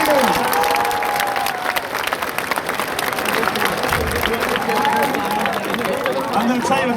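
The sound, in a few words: audience applause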